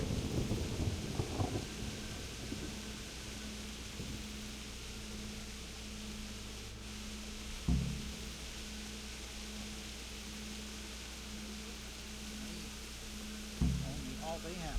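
Steady rain hisses over a low drone in Kingdom Come: Deliverance, a medieval role-playing game. Two sharp thuds break in about six seconds apart.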